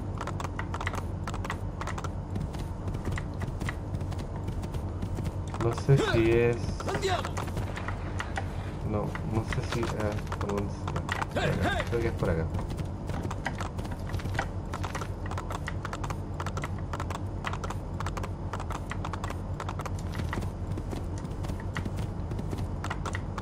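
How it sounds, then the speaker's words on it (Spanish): A horse gallops in Assassin's Creed II, its hooves clopping in a steady, rhythmic beat throughout, fairly quiet under game background noise while a person talks. "Voy a agarrar un caballo, yo creo que acá afuera hay caballo."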